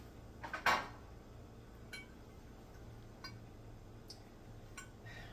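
A metal baking pan is picked up and set down in a home kitchen: one loud clatter near the start, then a few light, scattered clinks and taps against a faint steady background hum.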